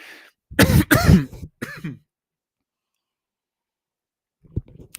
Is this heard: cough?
yes